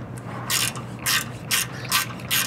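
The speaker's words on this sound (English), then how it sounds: "put a 10 mil gear wrench on it. And just turn it, hold the bolt with the top," A 10 mm gear wrench ratchets on a suspension bolt of a 2018 Ford Raptor, giving five crisp, evenly spaced clicking bursts close up with no talk.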